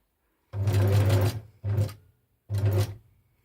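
Home sewing machine stitching a fabric ruffle, three quick motor-driven bursts of stitching, the first longest, separated by short pauses, close and clear with no talk.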